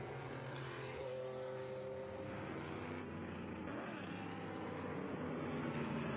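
Vintage 1973–1981 race cars, among them a 1974 BMW CSL and a 1981 Porsche 924 GTR, roar at the start of the Bonhams Cup race at Monterey, a continuous engine drone and revving heard at a distance.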